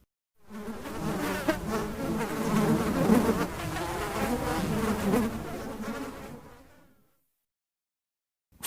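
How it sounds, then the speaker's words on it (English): Bees buzz in a steady, close drone that swells in after a brief silence, holds at an even level for about six seconds with slight wavering, then fades away, leaving quiet. "3 bees."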